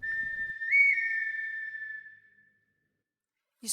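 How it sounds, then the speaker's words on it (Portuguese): A wooden whistle is played as one clear, sustained tone that bends briefly upward, then holds and gradually fades out, followed by silence and a short faint rustle at the end. "toca um apito de madeira"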